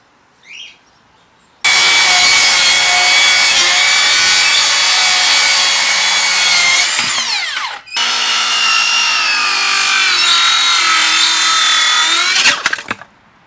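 A Makita 18V cordless circular saw makes two loud cross cuts through wood, each a sustained high whining buzz that spins down at the end of the cut, separated by a brief pause.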